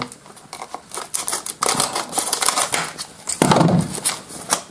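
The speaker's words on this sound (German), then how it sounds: "Ich mache den mal auf. Mal gucken, gibt es da so eine frustfreie Stelle, wo das ohne eine Schere geht?" Scissors cut open the plastic packaging of a soil moisture sensor, with a string of crisp, close snips and crinkling plastic. The snips come quickly and irregularly, and no one speaks.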